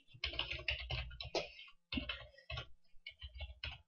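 Quick bursts of typing on a computer keyboard, a close clattering of keystrokes broken by a short pause near the middle, with no talking.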